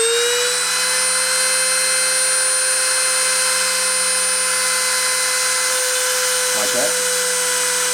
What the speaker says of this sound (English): I'm going to start up the spindle and try depositing.